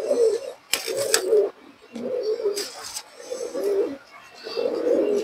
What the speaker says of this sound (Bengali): চোখ দেখেন অনেক সুন্দর কবুতর